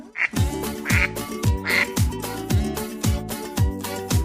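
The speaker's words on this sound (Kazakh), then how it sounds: "Жабайы үйрек." A wild duck quacks a few times in short nasal bursts, set against a steady, repeating musical beat with no talking.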